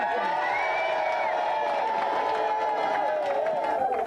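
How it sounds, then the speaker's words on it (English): A studio audience on a video game TV show claps and cheers in a sustained burst of applause lasting a few seconds, with some whoops mixed in. "let's have a big round of applause for the captain."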